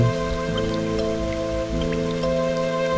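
Steady rain from the video game My Sticker Book patters continuously over a dense background with sustained tonal hum, a constant wash of drops with no voices.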